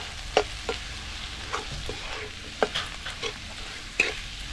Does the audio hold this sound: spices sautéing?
yes